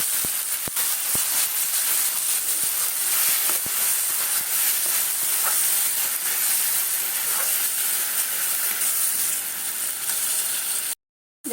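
Pointed gourd paste sizzles and hisses steadily in hot oil with nigella seeds, a dense, continuous frying crackle close by, with no one talking over it.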